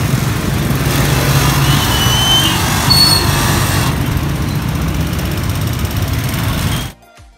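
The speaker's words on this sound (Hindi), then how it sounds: "यहाँ पे बंद हुई है रोड, इसकी वजह से ट्रैफिक जाम है।" A traffic jam on a blocked road, with loud, close engines idling and rumbling in a constant, heavy drone that cuts off abruptly near the end.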